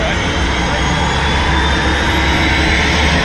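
Steady loud roar of an airplane engine heard from inside the cabin before a skydive, a constant broadband drone filling the whole stretch with voices faintly mixed in.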